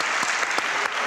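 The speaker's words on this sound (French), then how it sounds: "Wow, applaudissements." Applause from an audience fills the moment, a steady dense patter of many hands clapping at close range with a few sharper accents, no talk over it.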